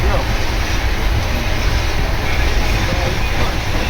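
Loud, continuous rumble and rattle of a moving train heard from inside a carriage, steady throughout with faint voices underneath.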